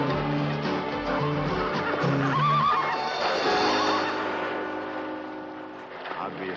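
A horse neighs in a loud, quavering whinny amid background chatter and movement on a 1972 television talk show stage, the call rising over the talk before fading.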